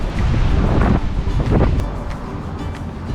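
Wind blows on a humid seaside hiking trail along the coast, a steady, loud rushing buffet across the microphone with gusts that ease off slightly toward the end.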